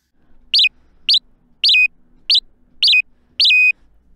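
Six short synthesized chirps imitating a house sparrow, played as keyboard notes on a synthesizer, each a bright, high electronic tweet in an uneven rhythm, with the last few held a little longer over near silence.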